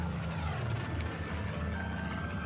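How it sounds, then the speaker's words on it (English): A propeller airplane circles overhead in a radio drama sound effect, a steady, dense engine drone that holds at a constant level for the whole stretch with no voices. "The plane circled overhead."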